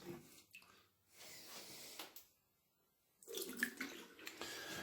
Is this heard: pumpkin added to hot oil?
no